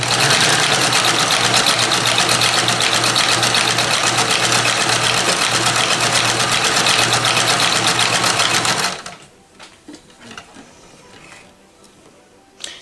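A vintage Dressmaker sewing machine runs loud and continuous for about nine seconds with a fast rhythmic clatter, then stops, leaving quiet handling noises.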